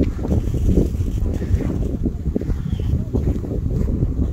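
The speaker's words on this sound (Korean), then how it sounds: "되게 바람 많이 부네" Strong gusty wind sweeps across a golf course in Gyeongju, buffeting the microphone with a low, rumbling, uneven roar that rises and falls throughout.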